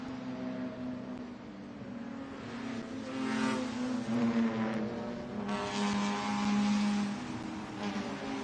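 Vintage race cars lap the Lime Rock circuit during an SVRA race, engines droning steadily at close range with rising and falling revs as several cars pass, one after another, with no talk over them.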